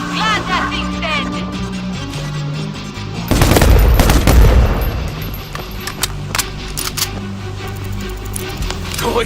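Loud, close bursts of automatic gunfire and heavy booms from the zombie shooter World War Z in Rome, over a steady game soundtrack, with a shouted voice line.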